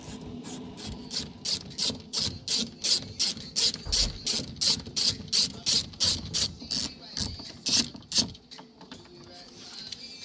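A ratchet works a 10 millimeter bolt on a car headliner with rapid, rhythmic clicking strokes, about twenty close, loud bursts in a row before it stops.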